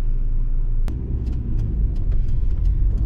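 Interior of a Rover 25 1.4 car on the move, with a steady low engine and road rumble throughout and a brief sharp knock near the start; no talking.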